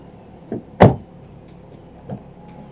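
A car door is pulled open with one loud, sharp clunk, preceded and followed by a few smaller knocks and rattles at close range, with no talk.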